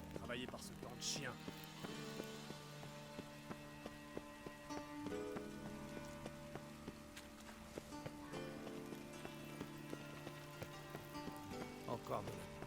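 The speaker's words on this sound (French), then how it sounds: "J'aime bien quand il pleut." Steady rain falls in the medieval fantasy game The Witcher, a continuous wash running under game music and someone talking throughout.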